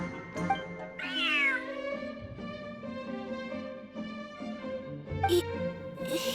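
A cat in the Genshin Impact video game meows several times, one long rising-and-falling meow near the start and shorter calls later, clear and close over soft background music.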